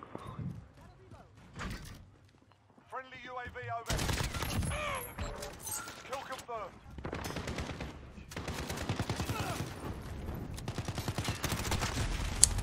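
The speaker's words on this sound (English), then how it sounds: "I was facing the wrong way when shooting my gun" Rapid automatic gunfire from the player's rifle in a Call of Duty Modern Warfare 2019 multiplayer match, loud close bursts that continue for several seconds with shorter sustained strings after a quiet start and a voice in the pause.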